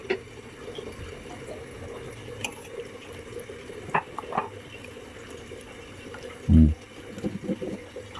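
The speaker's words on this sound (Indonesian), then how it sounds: "kita saring tuh, airnya turun ya tuh" Liquid from making grass jelly drains through a strainer, a soft, continuous trickle with a few small knocks and a brief louder clunk near the end.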